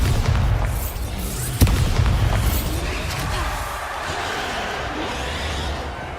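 A Bombarda explosion spell in Hogwarts Legacy, a sharp blast followed by a deep rumbling boom and lingering debris crackle, loud and close, with magical whooshes beforehand.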